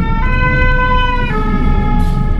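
A fire engine siren wails loudly and close by with a steady tone that drops in pitch as the truck passes, then fades under road noise.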